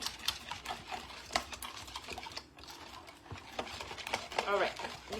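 Pancake batter for high-protein, low-carb pancakes is stirred in a bowl, producing soft, irregular scraping and tapping strokes under a person talking nearby.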